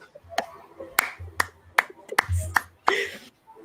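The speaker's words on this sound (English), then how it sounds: "That's a slow clap." A single person's slow clap, about eight sharp, isolated hand claps spaced roughly half a second apart, close and fairly quiet, with faint murmuring voices between them.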